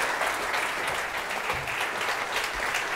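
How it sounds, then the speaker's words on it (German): Dense, steady applause from an audience honouring alpine ski racer Marcel Hirscher at his retirement, a continuous wash of many hands clapping without a break. "Ich glaube, den Applaus hast du verdient."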